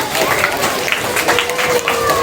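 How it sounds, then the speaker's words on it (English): Audience clapping at a children's school sports prize-giving for a running-race winner, a steady dense patter of applause with voices talking over it throughout. "Let's keep clapping. Yes, keep clapping."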